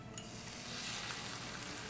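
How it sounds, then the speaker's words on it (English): Garlic sizzling in hot oil in a frying pan on the stove, a soft, steady crackling hiss, close and continuous with no talking. "while the garlic is sizzling"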